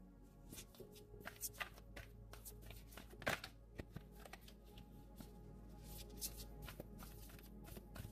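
Deck of cards being shuffled by hand at close range, a quiet run of soft riffles and taps in irregular bursts with one sharper snap in the middle.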